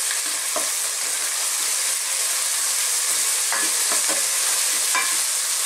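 Chicken liver frying and being stirred in a pan for chicken sotanghon, a loud steady sizzle with a few scraping stirs near the end, no voices.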